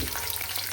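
Whole cumin seeds sizzle in hot oil in a home kitchen, a steady close frying hiss with faint crackle, alone and without talk.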